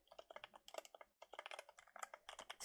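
Quiet typing on a computer keyboard, a quick steady run of crisp key clicks with one brief pause, heard alone.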